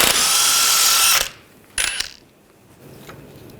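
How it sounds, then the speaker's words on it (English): A power tool with a 21mm socket spins off a tie rod nut on a 2014-2018 GMC Sierra 1500 front end. It makes a harsh, loud whirring burst of about a second, then a short second burst and quiet clinks. "We're going to take this nut off."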